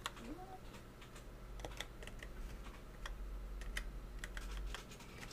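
A computer keyboard is typed on at close range, giving a light, irregular patter of keystrokes over a low steady hum, with no speech.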